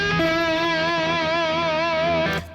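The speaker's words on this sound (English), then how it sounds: "then you get this typical bluesy sound from the distortion and from the bottleneck" An electric blues guitar played with a bottleneck slide through distortion holds one sustained, buzzing note with a wide wavering vibrato, alone and loud, before cutting off abruptly.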